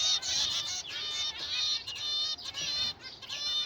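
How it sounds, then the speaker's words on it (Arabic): Iraqi tabzir breeding pigeons kept in Baghdad cooing and chirping close by, a run of repeated high, bright calls broken by short pauses, with no speech over them. "هاي الطيور قدامكم،"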